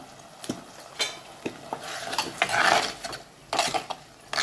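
Onion and ground tomato sautéing for a tamarind okra curry, with intermittent scraping and stirring strokes against the pan over a soft sizzle, close and uneven in rhythm.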